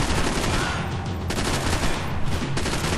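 Sustained, dense gunfire from the video game Max Payne 3, loud and continuous bursts blending into a constant roar with no pauses and no speech.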